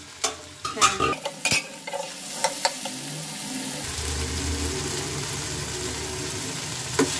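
Vegetables for chicken chowmein fry in a pan, opening with a burst of spatula knocks and scrapes, then settling into a steady, even sizzle.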